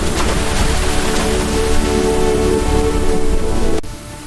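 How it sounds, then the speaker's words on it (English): Water splashed into the air falling like rain, a dense steady hiss of drops pattering down close and loud before cutting off abruptly. "Anansi filled a gourd with water and splashed it into the air"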